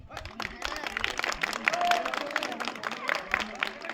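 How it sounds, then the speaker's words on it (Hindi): Audience applause at a class 12 farewell at a school in Gwefad, a dense patter of many hands clapping throughout, with voices talking over it. "ताली भी बजाओ भाई।"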